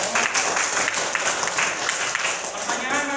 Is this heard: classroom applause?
yes